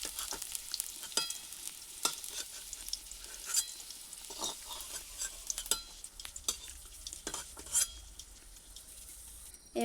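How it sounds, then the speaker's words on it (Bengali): Potato pieces sizzle in hot oil in a home kitchen while being fried until reddish-brown for a pointed gourd, potato and fish curry; a soft, steady frying hiss is broken by scattered clicks and scrapes of stirring. "আলুগুলো লাল লাল করে ভেজে নেব।"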